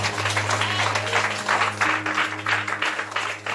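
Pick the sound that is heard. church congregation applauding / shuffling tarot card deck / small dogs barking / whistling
church congregation applauding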